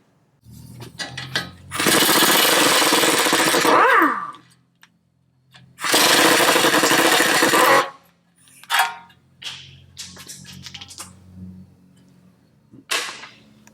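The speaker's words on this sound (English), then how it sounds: "we are now going to go ahead and remove these 4 bolts here that connect the lower ball joint to the knuckle itself" Impact wrench loosening the bolts that hold the lower ball joint to the steering knuckle on a 2002 Toyota Tacoma: two loud sustained bursts of about two seconds each, then several short clicks and knocks of tool handling.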